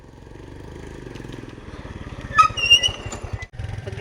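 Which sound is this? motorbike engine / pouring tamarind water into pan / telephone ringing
motorbike engine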